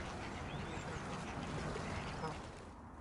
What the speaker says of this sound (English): The birds all seem to know when H is doing his rounds.